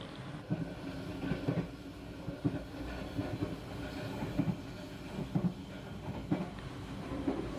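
A Motis Nataru economy-class passenger train runs along the rails with a steady interior rumble, broken by regular rhythmic clacks from the wheels as it passes over rail joints, heard from inside the carriage.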